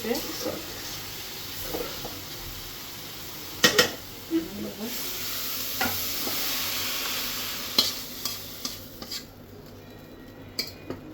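Hilsa fish curry simmers and sizzles in a pan while a utensil scrapes and clinks against the metal in scattered strokes, under a steady frying hiss with a voice speaking faintly nearby.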